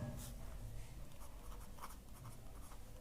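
Writing on a board or paper during a maths lesson on linear equations, soft scratchy strokes in short bursts, faint and close, with no voice over it.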